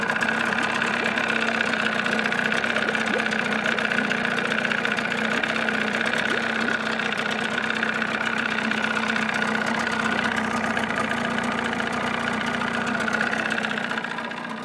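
A 1979 Evinrude 35 hp outboard motor fitted with sound deadening runs steadily at close range, a continuous even drone with a faint tonal hum and no pauses throughout.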